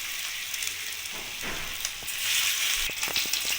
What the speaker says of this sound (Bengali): তেলটা গরম হয়ে গেছে আমি এটা নাড়িয়ে নিয়ে অল্প অল্প করে সোয়াবিনগুলোকে ভেজে দেবো